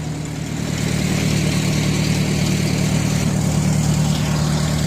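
A steady, loud diesel engine rumble from a 64-year-old Sherman backhoe idles close by without pause, a constant low drone with no voices.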